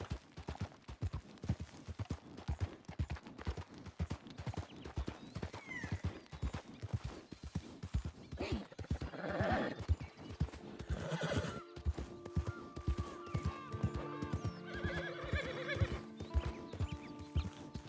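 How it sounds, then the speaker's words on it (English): Horse hooves clip-clop in a steady rhythmic trot throughout a Red Dead Redemption 2 scene, with a horse whinnying midway and faint voices speaking in the later part. "That's quite a horse you got."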